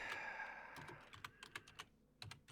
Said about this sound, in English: Typing it right now.